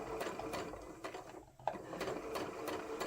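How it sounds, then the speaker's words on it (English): A sewing machine chain-pieces quilt fabric along a drawn line, its needle running in a steady fast mechanical chatter with a brief pause midway, close and fairly quiet, with no talking. "And just sew along like this."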